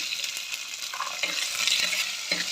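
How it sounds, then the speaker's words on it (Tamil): Onions, garlic and curry leaves sauté in a pan with a dense, steady sizzle and the occasional scrape of stirring, close and unbroken by speech. "இது நல்லா வதங்கணுங்க"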